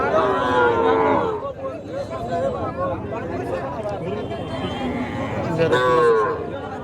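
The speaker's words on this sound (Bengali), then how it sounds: "এখানে বেশিরভাগই হলো দুধের গাবি" Friesian dairy cows at a cattle market in Muktagacha, lowing in a couple of drawn-out moos near and far beneath ongoing talk and crowd murmur.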